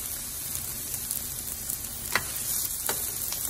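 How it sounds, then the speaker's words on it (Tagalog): Sliced onions sauté in a pan for Filipino beef steak, a soft steady sizzle with a few sharp stirring ticks, close and moderately quiet. "Tapos, ilagay na natin ang nahiwang onions."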